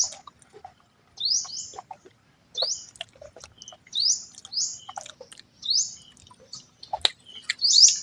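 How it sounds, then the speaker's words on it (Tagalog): Birds chirp in repeated short bursts of high, bright calls, spaced a second or so apart, with quiet gaps between and no talking. "huni lang na ibon yung maririnig mo dito."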